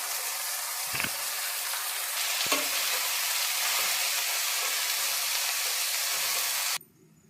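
Chopped amaranth greens (dantu soppu) hit a pan of frying onion and tomato with a steady, close, hissing sizzle. A few soft stirring clunks come through before the sound abruptly drops away near the end.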